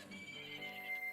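A horse in The Legend of Zelda: Majora's Mask gives a single clear, close whinny lasting about a second, with a faint backing of game sounds.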